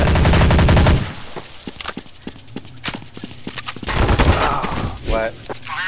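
Counter-Strike: Source gunfire: a dense automatic burst at the start, then scattered single sharp shots and short bursts at varying distances, with game footsteps and clatter between them.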